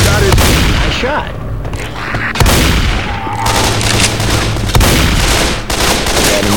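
Rapid, loud gunfire in the zombie video game Left 4 Dead 2, with repeated sharp shots and booming blasts over dense combat noise, and players talking underneath.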